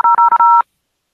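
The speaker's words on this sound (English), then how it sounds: "If you know the extension of the person you wish to reach, please dial it now." A short burst of telephone keypad DTMF tones, four or five quick beeps in an uneven rhythm, clear and close, followed by silence.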